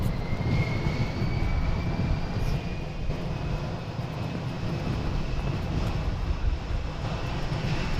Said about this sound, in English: Delta 1886, runway 10, clear for takeoff, right turn heading 180.